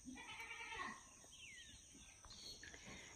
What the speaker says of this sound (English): Listen at them, I can hear them other goats.